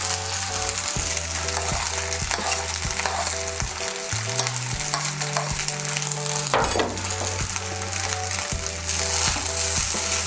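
Fried rice with mixed vegetables, cashews and raisins being stirred in a pan, a steady loud sizzle broken by repeated scraping strokes of a spatula, with a low background hum; no talking.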